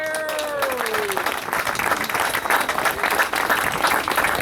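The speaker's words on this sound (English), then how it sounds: "Would you give him a massive round of applause too, folks?" An audience at a live show in Ramelton, Donegal, breaks into loud, sustained clapping for a local rally figure, a full wash of applause that begins as a voice trails off and keeps going to the end.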